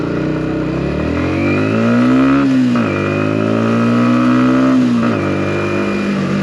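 A 125cc motorcycle, a Yamaha MT125 or Voge R125, being ridden with a loud, close engine note that rises and falls through two rev climbs and gear changes, with a steady roar throughout.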